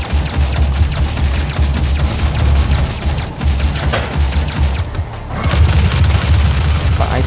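Continuous video-game battle noise: rumbling explosions and rapid gunfire, loud and dense throughout, with a brief dip partway before the barrage resumes.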